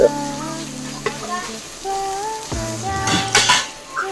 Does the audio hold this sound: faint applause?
no